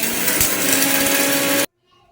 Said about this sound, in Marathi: हे मिक्सरच्या भांड्यात घ्यायचं आणि याची छान बारीक पावडर करून घ्यायची आहे।